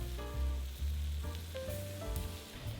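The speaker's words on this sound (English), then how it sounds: "simply sear both sides, then cover for about 2 to 3 minutes" Beef steak sears in a hot pan for Hong Kong–style baked black pepper steak with rice, a steady close sizzle with brief louder spits and no talking.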